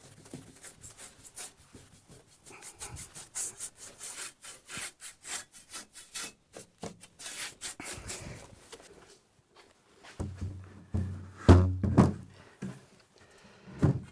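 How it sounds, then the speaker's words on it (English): An old timber window frame gets brushed and dusted with quick, repeated scrubbing strokes close by, followed by a few louder knocks and thumps toward the end. "We'll just give it a really good dust."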